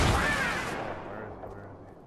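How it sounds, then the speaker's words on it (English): Rockets launch in the battle game Fortnite, a bright whooshing burst at the start that trails off and fades over a couple of seconds, moderately faint against a quiet background. "He's shooting rockets."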